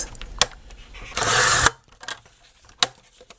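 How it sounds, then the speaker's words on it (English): Paper trimmed to 8 inches for a sticker pouch, a single loud, brief swish of a trimmer blade slicing through the sheet, set between scattered small handling clicks and taps, with no talking. "So I'm going to trim this at 8 inches."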